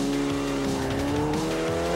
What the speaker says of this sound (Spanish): vaya fuerza que tiene este pepino de carro